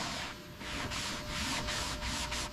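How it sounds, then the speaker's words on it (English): Rhythmic back-and-forth wet block sanding of primer on helicopter skids with 320-grit sandpaper, repeated strokes at a steady pace, close and moderately loud, with no talking. "Wet block sanding the primed skids with 320 grit for perfection."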